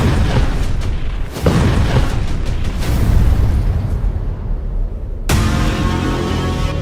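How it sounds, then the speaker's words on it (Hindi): An explosion from news footage of a submarine attack at Russia's Novorossiysk naval base booms loudly several times in heavy rumbling bursts, ending with a sharp blast. "ये धमाका देखिए।"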